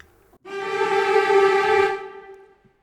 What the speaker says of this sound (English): We've got things like trills, which sound like this